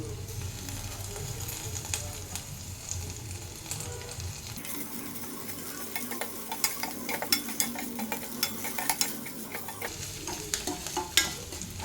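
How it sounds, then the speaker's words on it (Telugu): Onions and curry leaves sizzle in hot oil for egg poha, with steady frying hiss and repeated scraping stirs of a spoon against the pan, close and continuous with no talk. "ఇవన్నీ ఇలా ఫ్రై చేసేసుకోవాలి ఉల్లిపాయలు వేగిపోయినాయి కదా"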